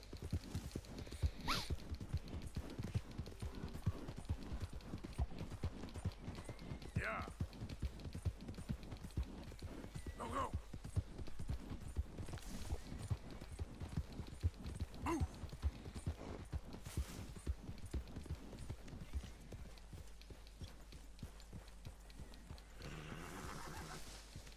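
Horse hooves clip-clop steadily at a riding pace as a rider heads up to camp in Red Dead Redemption 2, with occasional neighs and whinnies over a constant outdoor game ambience, no talk.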